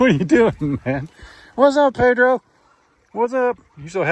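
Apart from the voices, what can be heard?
No everyday noise stands out behind the speech.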